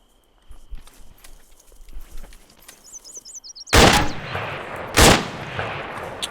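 Two loud, sharp gunshots in ArmA 3 ring out about a second apart during a weapon penetration test, each with a brief echoing tail, after quieter footsteps and faint game ambience.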